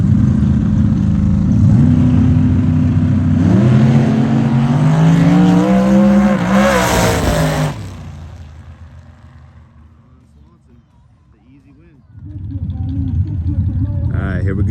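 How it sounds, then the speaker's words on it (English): Twin-turbo S10 with nitrous and an RX-7 launch side by side in a no-prep drag race, loud engine roar rising in pitch through the run, then fading away before another engine swells up nearby. "Swanson in the left lane, the RX-7 in the right"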